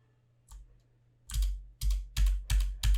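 A computer keyboard clacks through a string of distinct, fairly loud keystrokes in a steady rhythm, a few presses landing close together, with a faint tap early on and no talking.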